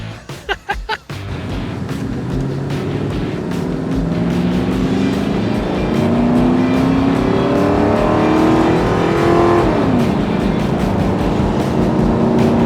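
A 1,000,000-mile Ford Crown Victoria's engine roaring hard, opening with a few loud bursts before a long sustained acceleration whose pitch climbs through successive gears, loud and close throughout.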